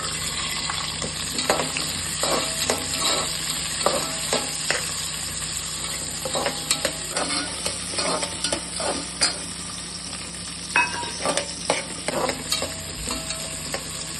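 Steady sizzling of onions frying in oil in a pan for Madurai mutton kulambu, with frequent scraping and stirring clatters throughout, close and continuous.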